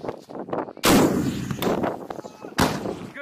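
A rocket fired on a Marine live-fire range, with loud booming blasts and a long rumbling roar, the second heavy blast following the first after nearly two seconds; shouted voices come just before the launch.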